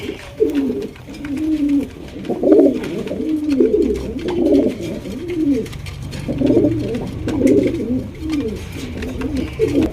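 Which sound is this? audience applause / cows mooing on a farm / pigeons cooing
pigeons cooing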